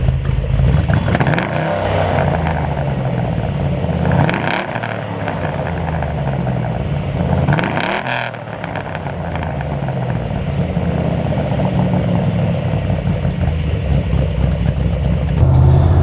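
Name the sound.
V8 engine idling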